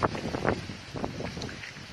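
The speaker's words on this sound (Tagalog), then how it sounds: "Ang lakas-lakas po ng hangin." Strong wind blows outdoors along a rural path in Kalangkang, Marinduque, buffeting the microphone in rough gusts and rushing noise for a couple of seconds.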